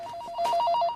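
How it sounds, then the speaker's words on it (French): A telephone rings with a quick electronic warbling trill, fairly loud and close, in a single short burst with no voices. "qu'est-ce qui se passe avec le téléphone?"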